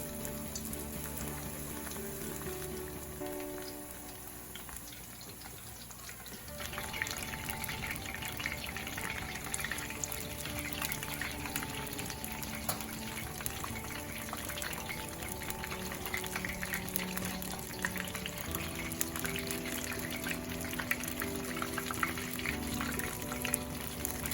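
Pieces of sole sizzle and crackle steadily in hot frying oil, a dense continuous fizz that grows a little livelier partway through, with no talking.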